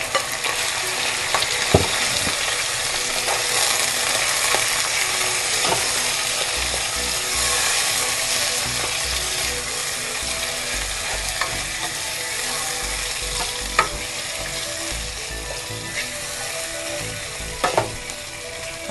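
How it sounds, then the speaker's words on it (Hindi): Minced meat (qeema) fries in a pan with golden-brown onions, cooked for stuffed bell peppers: a steady, dense sizzle runs throughout, broken by occasional sharp clicks and scrapes of stirring, with no talking. "कीमे को हम कलर चेंज होने तक भूनेंगे।"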